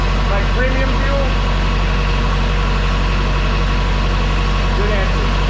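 A diesel truck engine that was run on gasoline idles in a steady, low, even rumble throughout, close and loud with no changes in pace.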